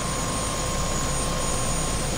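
Helicopter in the 2017 video game Prey, a dense steady rotor and engine drone filling the scene at constant loudness, with no voices over it.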